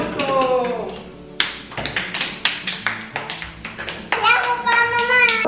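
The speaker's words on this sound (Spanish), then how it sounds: "¡Un aplauso!" A family claps hands together in a kitchen during a cooking session: a run of sharp, uneven claps close by, with a child's and adults' voices talking before and after.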